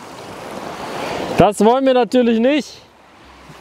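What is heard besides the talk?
incoming tide waves on Lofoten beach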